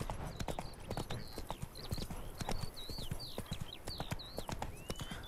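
Horse hooves clip-clop in a steady plodding rhythm in the video game The Witcher 3, with bird chirps and calls above the steps and faint ambient background.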